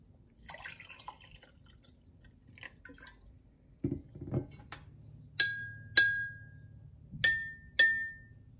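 Water-filled drinking glasses are struck like a xylophone, four clear ringing clinks in two pairs with bright sustained tones, preceded by soft handling noises and a low thud as a glass is set down.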